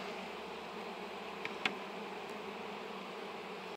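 Honey bees hum around a hive being treated with hydrogen peroxide for chalkbrood, a steady, even buzz close by, broken by a couple of faint clicks.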